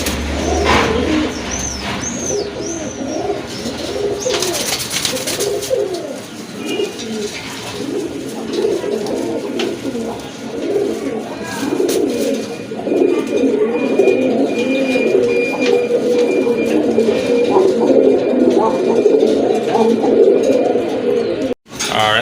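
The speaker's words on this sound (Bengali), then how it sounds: "এখন দেখতে পাচ্ছেন এক জোড়া রাজগোল্লা কবুতর আছে" A pair of Rajgolla pigeons, one a deep red hen, coo repeatedly at close range in low, rolling phrases that carry on steadily for about twenty seconds, with a few higher chirps near the start.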